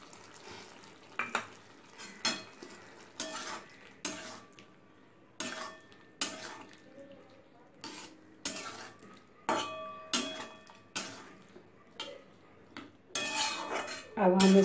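A spoon scrapes and clinks against a pan while poppy seed paste is stirred for Bengali bari posto, rhythmic metallic strokes every second or so, close up, with faint sizzling underneath and no talking.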